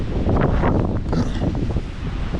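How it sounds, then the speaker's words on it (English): Breezy wind on a trail through a burn area along Turnagain Arm in Alaska, a continuous rough rumbling gust buffeting the microphone with faint rustling, loud and steady without speech. "Breezy over here too."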